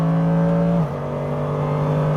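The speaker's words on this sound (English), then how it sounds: "I can't believe I'm actually driving a GT3 car." A Mercedes-AMG GT3 race car pulls away from the pit lane, its engine droning loudly from inside the cabin, then shifting to a lower, steady note as it accelerates.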